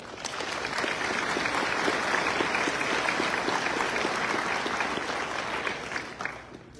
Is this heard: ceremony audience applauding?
yes